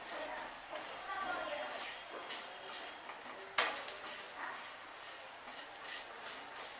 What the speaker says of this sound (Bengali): এবার অল্প তেল ছড়িয়ে আমি এই পরোটা ভেজে নেব।